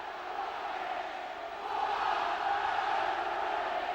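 Home crowd at a 1994 Benson & Hedges Cup ice hockey match between the Nottingham Panthers and Edinburgh, a steady roar of many voices that swells louder midway and holds, dense and distant-sounding.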